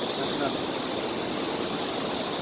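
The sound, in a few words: rushing water at Jamsil underwater weir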